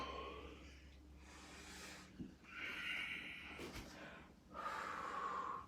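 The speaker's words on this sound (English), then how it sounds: "Great exhales, everyone." Several heavy exhaled breaths during a full-body workout, each a forceful, close puff of air repeated at an uneven pace, with faint background sound between them.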